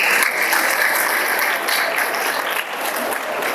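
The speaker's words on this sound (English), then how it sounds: "Can we have a round of applause?" Sustained round of applause from an audience at a school valedictory ceremony, dense steady clapping from many hands filling the hall for several seconds at full volume.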